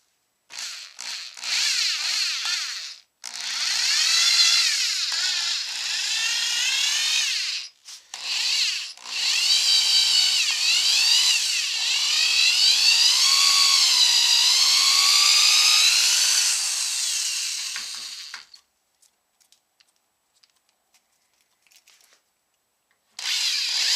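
A power drill bores a quarter-inch hole into a wooden guitar neck in several whining bursts, the motor pitch sagging and rising under load, with short pauses between passes before it stops.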